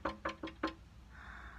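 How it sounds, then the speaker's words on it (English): A storybook woodpecker pecking effect: four quick, hollow wooden taps in an even rhythm, close and fairly crisp. A faint airy hiss follows, and no one speaks. "It's our friend Woodpecker."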